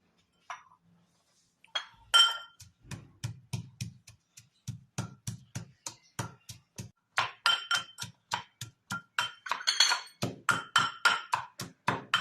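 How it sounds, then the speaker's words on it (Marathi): Ginger and green chili with salt are pounded in a small mortar, giving a steady series of sharp, close knocks with a ringing, clinking edge, spaced regularly and speeding up toward the end, with no voices. "आता हे कांडायचं आपल्याला, त्याच्यात थोडंसं मीठ टाकायचं म्हणजे ते छान काढलं जातं."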